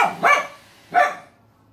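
A dog gives two short, close barks about half a second apart, then falls quiet.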